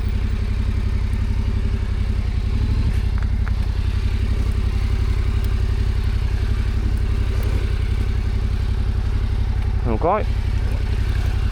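A heavy Yamaha Tenere adventure motorcycle runs through snow on an alpine road, its engine a constant close, loud drone with faint clatter, while a rider's voice speaks briefly over it near the end.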